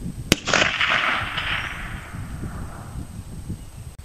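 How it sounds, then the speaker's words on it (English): A single sharp rifle shot firing a cast bullet load, one loud crack followed by a trailing rumbling echo that fades over several seconds outdoors. "Okay, that was the seventh shot."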